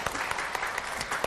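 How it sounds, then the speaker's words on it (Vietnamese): Wedding guests clapping for the groom, a brief burst of dense, lively applause from a nearby crowd lasting just over a second. "Dạ nếu anh chị quý vị đồng ý cho em tràng pháo tay được không ạ?"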